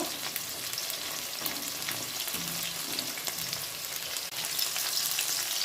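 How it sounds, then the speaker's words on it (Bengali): Chicken pakoras deep frying in oil over medium-low heat, a steady dense sizzle and crackle running evenly throughout at close range, with no voices. "আমি একটা একটা করে চিকেন ছেড়ে দেবো চিকেনগুলোকে ভেজে নেব মিডিয়াম টু লো আছে পকোড়াগুলো আমি লাল লাল করে ভেজে দেব"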